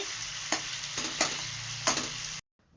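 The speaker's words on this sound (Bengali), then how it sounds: "মশলা কষানো চলছে আলুর দমে" Spices for a potato curry (aloo dum), with chilli and garlic, sizzle and fry steadily in a pan while a spatula scrapes and stirs three times. The frying stops abruptly near the end.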